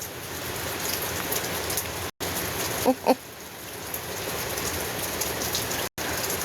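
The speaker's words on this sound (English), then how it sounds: "Yes, it's raining on our parade this morning." Steady rain pours down on a morning outdoors, a dense continuous hiss filling the scene, with a couple of brief louder knocks partway through.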